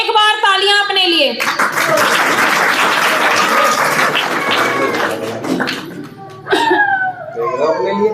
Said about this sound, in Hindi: इसलिए एक बार तालियां अपने लिए।